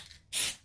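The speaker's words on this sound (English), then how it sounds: "but I'll spray this one" Spray adhesive hisses in one short, close burst onto a fabric piece while a coffin-shaped wallet is sewn, broadband and steady for about a quarter second, then fading.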